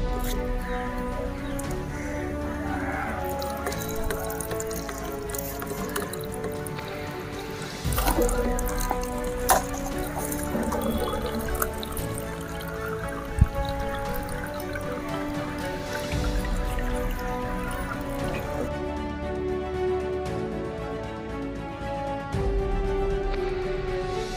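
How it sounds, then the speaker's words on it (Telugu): Dirty water dripping steadily through a homemade ancient-style water filter into a container below, a continuous patter of small drops with occasional louder plinks over a resonant background. "పైన మురికి నీళ్ళు వేసినట్లయితే నెమ్మదిగా దీంట్లోకి ఫిల్టర్ అవుతూ డ్రాప్ అయితే పడుతున్నాయి"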